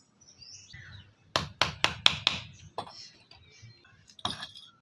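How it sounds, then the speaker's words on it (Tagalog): A nail is hammered into wood to start a pilot hole for a screw, heard as about five sharp, close strikes in quick succession, followed by a couple of lighter taps. "Kuha natin, butasan natin ng pako"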